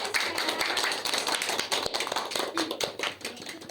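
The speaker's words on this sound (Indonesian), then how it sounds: "Tepuk tangan untuk kelompok 1" A classroom of students clapping for a presenting group during a science microteaching lesson, a brisk, close patter of many hands with distinct individual claps, dense and continuous.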